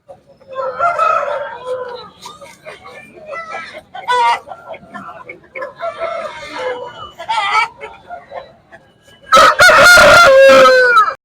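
A country rooster crows loudly and close by near the end, following a stretch of clucking and bird calls in the background at a poultry market in Anantapur.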